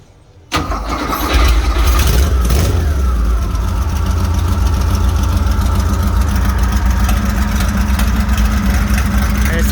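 A 1970 Porsche 911T with a 3.0-litre flat-six and open headers cranks and catches, then settles into a loud, steady idle with a raw, throaty rumble close by.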